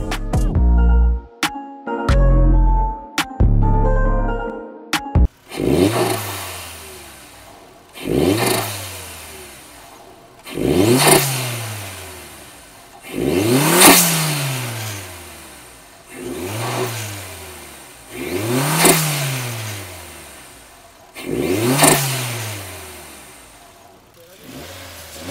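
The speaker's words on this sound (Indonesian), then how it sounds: "Silakan dengerin suara dari turbo mobil ini." A turbocharged Suzuki Jimny JC74 five-door opens with a few sharp blips, then gives about seven strong, evenly spaced revs, each climbing and falling back. The engine is loud and close, with no talk over it.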